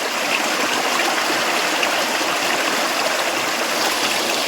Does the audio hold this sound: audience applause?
no